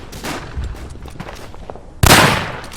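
Rifle fire in the World War I shooter Verdun during a rifle deathmatch, with some distant shots and rumble followed by one loud, close blast that trails off in a long echo.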